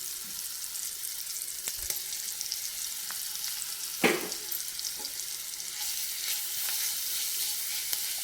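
Ginger garlic paste hits hot oil in a frying pan already holding onion and carrot, for a chicken fry, giving a steady close hiss with a brief louder spurt midway. No one speaks.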